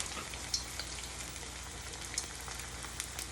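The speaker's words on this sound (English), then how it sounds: "we're going to slowly put it into our fryer" A buffalo chicken egg roll deep frying in a fryer gives a steady dense sizzle with scattered crackles and pops, moderately loud and close, with no talking.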